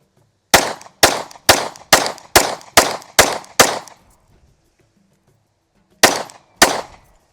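A Glock 43x pistol fires seven sharp, evenly spaced shots in quick succession, then after a pause two more, loud and close with brief ringing decay.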